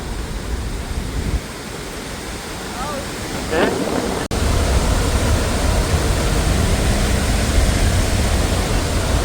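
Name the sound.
Athirappilly waterfall roaring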